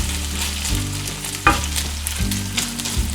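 Chicken breast fries in a hot pan with a steady, fairly loud sizzle, broken by a few scraping stirs and one sharp crackle midway, and there is no talking.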